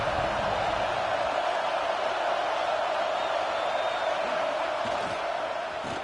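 A stadium crowd in a college football video game keeps up a steady, loud roar throughout, with a commentator talking over it.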